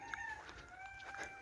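Chickens cluck in a village yard in Saudi Arabia with a rooster's crow mixed in, faint and a little distant, in short high calls.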